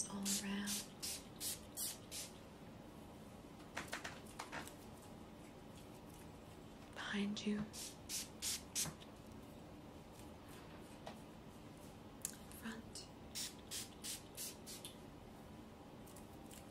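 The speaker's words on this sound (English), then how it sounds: "So I'm going to spray this all around." A hand-held spray bottle misting repeatedly around someone during a Reiki aura cleanse, heard as short soft hissing spritzes in small clustered bursts with quiet pauses between, close and gentle, while a voice speaks briefly.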